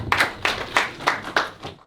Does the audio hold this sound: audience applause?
yes